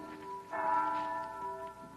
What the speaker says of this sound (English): That's the bell at St. Boniface, isn't it?